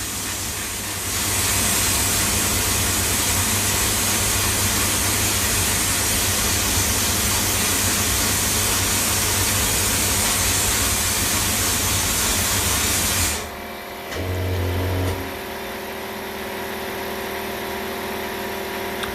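A 3D printed vapor blasting nozzle sprays inside a stainless cabinet with a loud, steady hiss and low hum that runs for about thirteen seconds, then cuts off. Brief mechanical clunks and a quieter hum follow.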